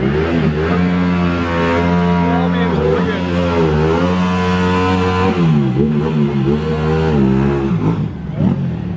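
Ducati motorcycles pulling wheelies at a World Ducati Week race event rev hard and continuously, the engine pitch climbing and dropping in sweeping waves, loud and close throughout.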